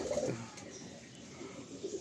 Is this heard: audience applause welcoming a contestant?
no